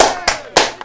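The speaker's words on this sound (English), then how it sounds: "Y'all clap it up for him" Three sharp, separate claps ring out close by, spaced roughly a quarter second apart, with the last one softer than the first two.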